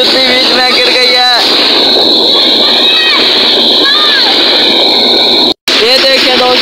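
Water splashes as people bathe outdoors in cold water on a hot summer day, with sloshing and splatters under loud talking, including a voice, and a brief dropout near the end.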